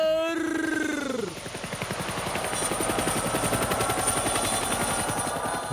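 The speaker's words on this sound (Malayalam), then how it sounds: "ഹെലികോപ്റ്റർ" Helicopter rotor thumping loud and close, a fast steady chopping pulse that builds and holds after a descending whine at the start.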